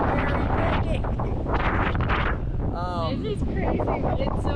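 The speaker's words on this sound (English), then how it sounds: "It's very windy. It's very windy. Very, very windy." Strong mountain wind roars across the microphone in a continuous heavy rumble, with a voice talking briefly underneath.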